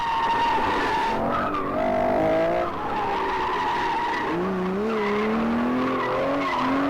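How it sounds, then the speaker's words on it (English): Aston Martin racing on a track with wheel spin, tires squealing and skidding in rising and falling wails over a loud, steady engine roar, close and continuous. "As he gets a little bit of wheel spin coming into the last S's, coming into the final corner now, laying it down."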